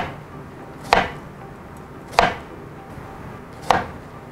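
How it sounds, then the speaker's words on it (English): A julienne peeler cutting the skin of a cucumber: three separate short scraping strokes, evenly spaced and close, over quiet kitchen background. "use your julienne peeler if you've got one and just cut the skin here all over the cucumber"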